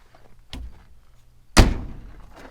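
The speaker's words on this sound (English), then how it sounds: "Doors closed really nice." Door of a 1953 Chevy pickup truck closing, a solid near thunk preceded by a softer knock, in a quiet shop.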